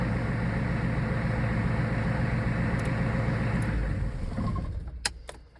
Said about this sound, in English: A diesel engine, older one like this, will fire up pretty easy if the engine's warm.